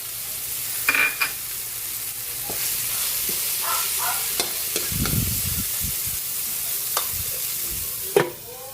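Ground pork sautéing in a pan for ginisang sayote, a steady close sizzle broken by scraping stirs and a few clinks of the utensil against the pan, with no voices.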